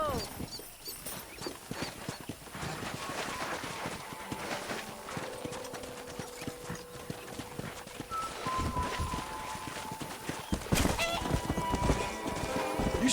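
Horses gallop and whinny in the video game Red Dead Redemption, with steady rapid hoofbeats running throughout and occasional neighs, while people talk over the action.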